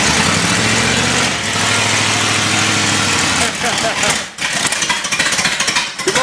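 An old Partridge Wagon engine is kicked over and sputters, chugging loudly for a few seconds before faltering into irregular bursts, with people talking nearby.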